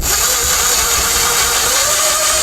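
A Ryobi or Milwaukee impact driver, heavily stressed and running hot, whines steadily under load close to the microphone, with a continuous high-pitched motor tone and no pauses.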